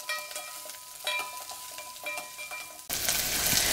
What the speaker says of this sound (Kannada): ಈಗ ಒಂದು ಮೆಣಸಿನಕಾಯಿ, ಕರಿಬೇವು, ಈರುಳ್ಳಿ ಹಾಕ್ಕೊಂಡು ಫ್ರೈ ಮಾಡ್ಕೊಳ್ತಾ ಇದ್ದೀನಿ